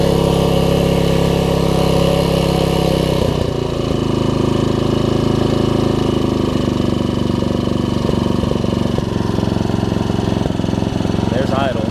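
Troy-Bilt Tuffy tiller engine running loud and steady, a close, continuous droning hum that shifts down in pitch partway through as it settles to idle, with a voice over it.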